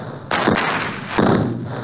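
Cannon fire at enemy ships in the Sega Genesis game Super Battleship lands as two heavy, booming thuds about a second apart, each followed by a rumbling decay. The shots are loud and up close, with no voices.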